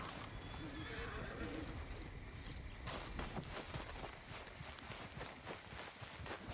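A horse in the video game Red Dead Redemption 2 whinnies and clip-clops along at a trot, its hooves loud and close over a steady outdoor game soundscape, with faint talk in the background.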